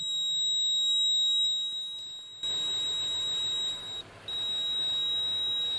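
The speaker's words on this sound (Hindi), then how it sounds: "मल्टीमीटर को करते हैं बीप मोड पे सेटिंग, और यहाँ पे देखिए एक आपको बीप का साउंड आ रहा है।" A multimeter set to continuity mode, probed across a Mahindra Centuro motorcycle's CDI socket wiring, emits a steady high electronic beep that holds for a couple of seconds, then repeats with short breaks against faint background noise.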